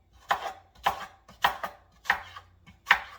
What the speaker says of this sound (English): So just cut up these apples.